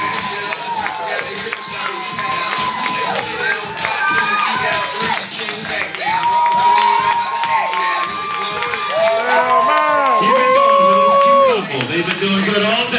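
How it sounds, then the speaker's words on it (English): Wedding guests cheer, shout and whoop for the bride, a loud, lively crowd with high excited voices overlapping and rising toward the end, while scattered clapping stays faint beneath. "Let's hear a big round of applause for our mother, the bride"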